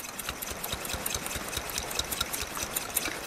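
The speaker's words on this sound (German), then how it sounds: "Das heißt, hier einmal beherzt pumpen." Fuel bottle of an Optimus Polaris stove being hand-pumped to build pressure: a fast, even series of soft rhythmic pump strokes with faint airy squeaks, close and without talk.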